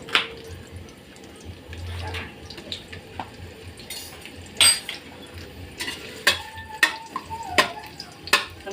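Food is stir-fried in a pan over a high, flaring flame. Metal utensils clatter and scrape in sharp, irregular knocks over a low background sizzle, with people talking intermittently nearby.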